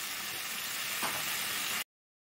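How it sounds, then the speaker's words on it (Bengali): Spices fry in a pan for a snakehead fish curry, a soft, steady sizzling hiss with a brief stir partway through that cuts off abruptly. "ভাজা হয়ে গেল মশলাটা"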